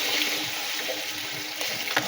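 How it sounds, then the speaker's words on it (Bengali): Water pours steadily into a cooking pot of simmering fish curry, a brief hissing, splashing stream at moderate loudness with no talking. "এবার আমি জল দিয়ে দিলাম।"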